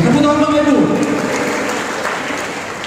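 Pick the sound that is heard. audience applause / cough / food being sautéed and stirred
audience applause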